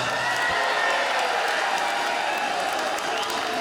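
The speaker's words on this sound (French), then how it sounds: "Merci d'applaudir Benjamin." Concert audience applause and some cheering at the end of a show, a full crowd clapping steadily with occasional whoops, fairly distant.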